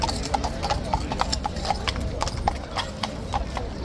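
A King's Guard horse walking on hard ground, its hooves clip-clopping in an even, repeated rhythm close by, with crowd murmur and street ambience behind.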